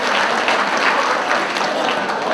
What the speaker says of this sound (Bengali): আপনার সেই জন্য একটা হাততালি আমাকে